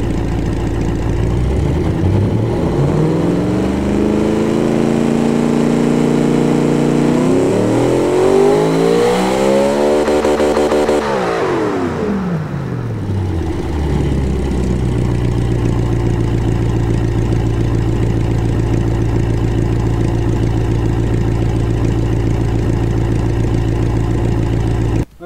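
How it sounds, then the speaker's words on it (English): A simulated V8 engine in the game Automation revs loudly, climbing and falling in pitch several times toward 9000 RPM before settling into a steady high drone, close and continuous with no voices. "Okay, so now you've heard that beautiful beast sing up to 9000 RPM."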